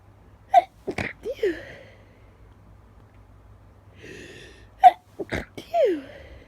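Two bursts of sneezing, each a sharp close sneeze with gasping breaths around it, separated by a quiet pause.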